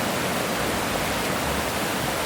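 Water at Horse Cove Campground flows along a stream with a close, constant rushing hiss and no breaks.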